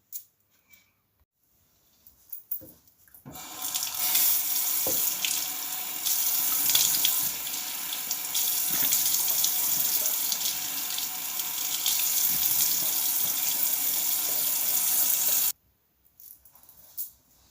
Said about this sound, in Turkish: şimdi bir yüzümü soğuk suyla yıkayacağım